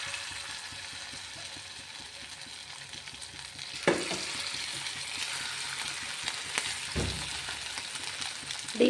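Chicken pieces sizzling and frying in a hot pan with a little oil for chilli chicken, a steady crackling hiss with a couple of sharp bursts as pieces are stirred or turned.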